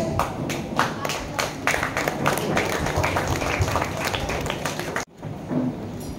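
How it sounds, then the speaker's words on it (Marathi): A crowd at a state youth games opening ceremony claps steadily for several seconds, a dense patter of applause that cuts off abruptly near the end, followed by quieter room noise. "सो एकदा जोरात टाळ्या झाल्या पाहिजे त्यांच्यासाठी."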